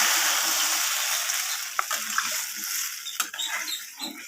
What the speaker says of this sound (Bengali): এরপর আমি এতে জল অ্যাড করে দেব